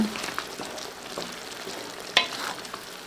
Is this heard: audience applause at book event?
no